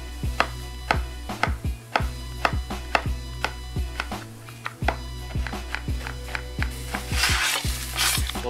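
A knife chops a shallot on a cutting board in a quick, steady run of close, crisp strikes, with a low steady kitchen hum and some sizzling beneath near the end.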